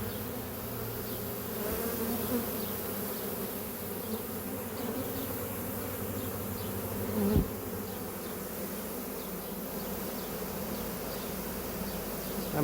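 A honey bee swarm being shaken off branches into a box drones in a steady, dense buzz throughout, close and continuous, with a brief thump partway through.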